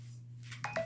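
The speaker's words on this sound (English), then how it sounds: "Sorry about the phone's going crazy." A phone chirps two short keypad-style beeps close by, following a low steady hum in an otherwise quiet room.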